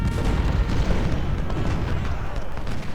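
Civil War musket and artillery fire in the Ultimate General strategy game at Brandy Station: a dense, continuous crackle of volleys and booms, loud and unbroken throughout.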